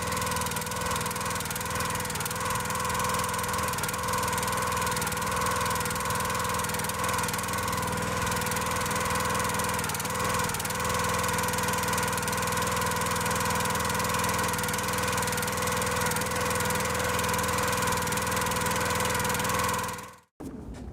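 A log splitter's small engine running on fresh AMSOIL 5W-30 synthetic oil idles with a steady droning hum and faint rattle, holding an even tone for about twenty seconds before it cuts off abruptly at the end.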